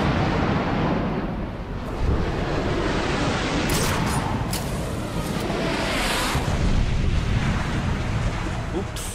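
A dense, roaring artillery bombardment of the museum in Batman: Arkham City, with heavy sustained rumble and a few sharper bursts, loud throughout.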